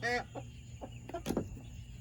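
A hen in a chicken yard clucking in short, soft, irregular bursts at close range, with faint background noise.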